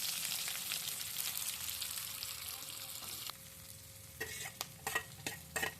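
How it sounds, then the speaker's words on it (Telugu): Chopped onions fry in hot oil with mustard seeds and chana dal, a close, bright sizzle that drops midway and gives way to a few scraping stirs of a spoon in the pan. "మనం కట్ చేసి ఉంచుకున్న ఉల్లిపాయ ముక్కను కూడా వేసుకొని బాగా ఫ్రై"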